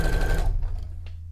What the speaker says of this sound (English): I don't think he likes the bouncing of my sewing machine